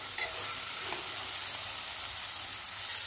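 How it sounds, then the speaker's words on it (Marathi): Green pea pods and fresh pigeon pea fritter mixture frying in oil in a pan, a continuous bright hissing sizzle, even and close, with no voices. "हे छान असं भाजून घेऊया तेलामध्ये"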